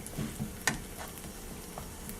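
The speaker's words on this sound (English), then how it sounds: "So I want this frying over medium to medium high heat in the pan here." Soft, steady sizzling of low-carb keto pancake batter frying in a pan over medium-high heat, quiet and close, with a couple of faint clicks and clatters near the start.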